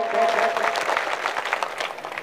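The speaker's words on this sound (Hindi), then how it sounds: "अगर आप संजीदगी के साथ मुझे एक बार जोरदार ताली बजा करके" An audience at a nazm poetry recital breaks into steady, dense applause, a brief burst of many hands clapping together with no voices.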